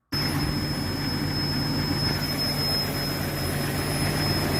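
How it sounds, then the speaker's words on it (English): A Jeep Cherokee 4-liter engine at warm idle with a failed manifold gasket, a steady loud rumbling drone topped by a constant high-pitched whistling leak, close up with no talk. "The gasket which separates the manifolds from the engine decided to give up on life, and you can hear it screaming in agony at warm idle."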